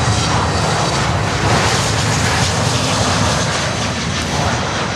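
An American Airlines jet airliner arriving from Tampa at Miami airport gives a loud, sustained engine roar. The broad rushing jet noise holds steady throughout with no talk over it.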